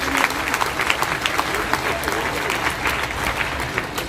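An audience claps steadily and loudly throughout, a dense, continuous round of applause at a gathering honoring a young RCM family leader.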